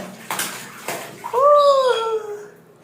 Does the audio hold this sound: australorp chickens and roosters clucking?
no